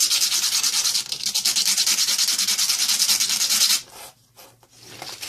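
Sandpaper rubs the metal leads of an LED to sharpen them, a fast, steady scratchy rasp held close for nearly four seconds before it stops and leaves only faint handling noise.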